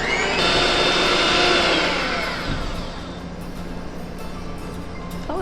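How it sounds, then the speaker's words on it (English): Electric mixer whisking half a cup of heavy cream toward peaks, a loud close whirring whine that drops in pitch and eases after a couple of seconds, then keeps running more softly. "I have a half cup of heavy cream, and I am going to whisk it until it has some peaks form."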